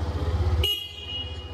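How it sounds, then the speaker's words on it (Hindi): A Hero Xtreme 125R motorcycle, a 2024 125cc bike, sounds its horn in one loud, clear, steady honk that starts partway through and holds to the end, with no voices. "काफी लाउड हॉर्न दिया गया है"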